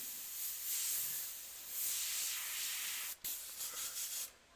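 An airbrush sprays paint in freehand work on a demon design, a steady soft hiss that briefly cuts out and then returns in short pulses near the end.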